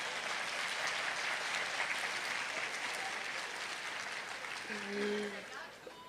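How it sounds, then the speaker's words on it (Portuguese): Sustained applause from an audience at a Spiritist congress in Juiz de Fora, a dense steady wash of clapping that fades slightly toward the end, with a brief voice rising over it. "Palmas para o Adailson, gente."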